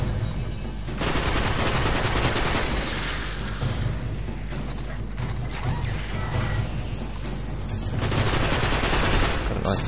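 Enemy gunfire in The Devil's Lair video game, a dense mechanical rattle of shots running continuously through the whole stretch at steady loudness, with no talk.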